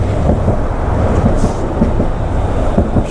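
A city tram rolls past amid daytime traffic, a loud continuous low rumble with faint rhythmic wheel clatter, close by and steady throughout with no talk.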